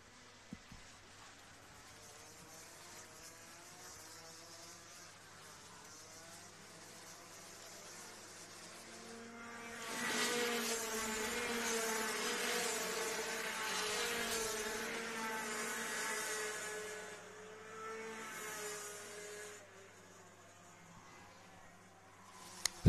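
Rotax DD2 direct-drive two-speed kart race engines buzz past at a race, a distant droning whine that swells loudly in the middle as karts pass near, then fades away.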